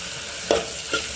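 Red chili, turmeric powder and salt stir into a pot of Gujarati dal, a faint steady sizzle with two quick spoon strokes against the pot, close up with no voices.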